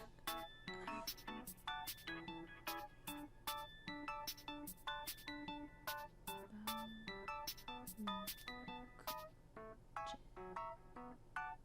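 A phone rings in a video game, sounding as a rapid, repeated electronic chime pattern of bright tonal pulses that continues steadily and loudly with no talking over it.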